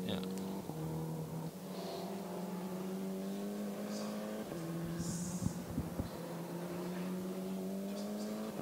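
A Maserati GT4 race car runs a qualifying session at the Nürburgring, its engine droning and shifting pitch at moderate distance while a commentator talks over it throughout.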